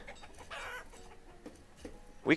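Chickens in a village in the city-building game Banished give short, soft clucks at low volume, then one louder squawk at the very end.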